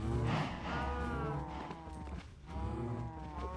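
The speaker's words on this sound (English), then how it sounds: "let me feed my cows too" Cows mooing in the video game Minecraft: drawn-out, close, loud bovine moos, one flowing into the next across the stretch, with no talk over them.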